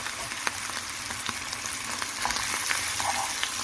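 Smoked turkey sizzles and crackles steadily in a hot frying pan while being stirred, a constant bright frying hiss with occasional scraping and popping, close and without voices.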